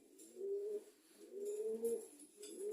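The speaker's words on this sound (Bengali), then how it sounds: "এই দুইটা অসুস্থ যে দুইটা কবুতর আমার" Two sick pigeons give soft, rolling coos in three separate bursts, each swelling and fading, fairly quiet with faint high rustling between calls.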